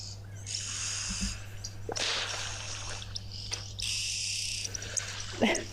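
Oxpeckers at a waterhole give loud, repeated hissing, buzzy calls in long bursts, rising and falling against a steady low background hum.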